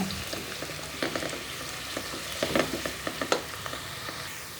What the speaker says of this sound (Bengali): এক কাপ পেঁয়াজ লাল করে ভেজে নেব